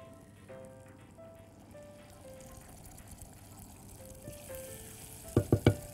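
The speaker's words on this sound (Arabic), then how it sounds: "أول حاجة بنزلها هتبقى الزبدة، هننزل الزبدة" Butter melting in a pan for chocolate nut toffee gives a steady, soft sizzle and frying hiss up close, ending with a few louder clatters near the end.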